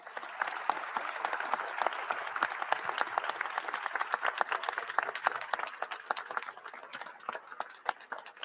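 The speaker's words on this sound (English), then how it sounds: "Everyone, a round of applause." Audience applause at an event with government officials and the Artemis II astronaut crew, steady dense clapping from a crowd that holds through the stretch and thins slightly toward the end.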